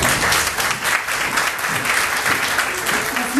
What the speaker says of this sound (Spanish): La recibimos con un aplauso, por favor.